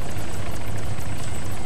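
Helicopter in a video game, heard from inside with a loud, constant engine drone and a rapid rhythmic rotor thump under a thin high whine, close and unbroken.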